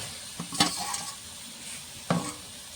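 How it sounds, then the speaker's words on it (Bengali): Fried potato and soya chunks tipped into spice masala in hot oil, a soft sizzle broken by two sharp clatters of the ladle against the pan, close by and with no talking. "ভেজে রাখা আলু সয়াবিনটা দিয়ে দেবো।"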